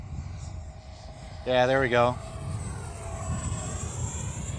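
A Freewing Avanti v2 EDF jet RC plane roars past as power comes on for a loop, a sustained whine that swells and fades, with someone talking briefly over it.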